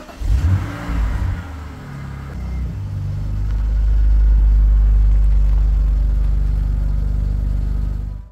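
A BMW E46 car starts moving, its engine rising from a low rumble into a steady, loud mid-range drone that holds close by before fading slightly at the end.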